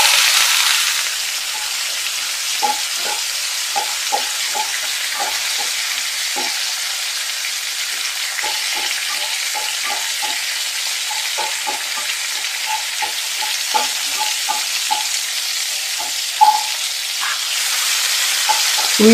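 Onions sizzle steadily in a hot pan for a beetroot fry, with a continuous frying hiss and occasional soft clicks of stirring throughout.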